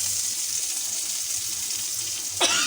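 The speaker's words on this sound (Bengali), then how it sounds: "লাউ রান্নার জন্য এখন আমি পেঁয়াজ দিয়ে দিলাম, পেঁয়াজ আর কাঁচামরিচ।" Onion and green chillies fry in a pan for a bottle gourd dish, giving a steady close sizzle and hiss that swells briefly near the end.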